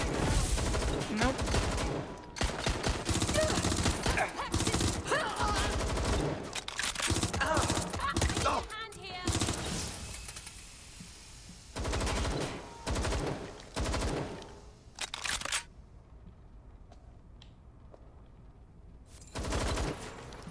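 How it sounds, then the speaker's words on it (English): Gunfire in the video game Watch Dogs: Legion: dense, loud bursts of automatic fire and rapid shots crowd the first half, then sparser volleys break up near-silent gaps toward the end. "I'm taking fire!"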